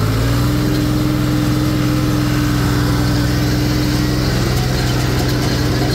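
Hay baler with a bale thrower attachment running nearby, a loud, constant mechanical drone with a steady engine hum and no talking.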